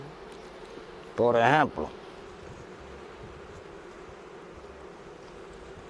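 Honeybees at a hive in Cuba make a steady low buzz beneath a short, loud nearby burst of droning wings, with a brief spoken phrase.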